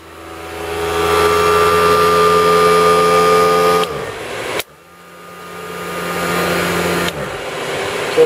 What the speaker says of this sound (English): The unit is plugged in and is currently running.